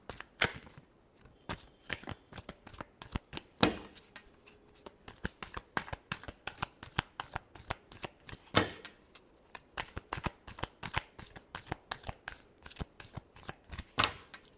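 Tarot cards are shuffled by hand up close in a steady run of crisp, rapid riffling and flicking bursts that continues throughout, quiet and with no talking.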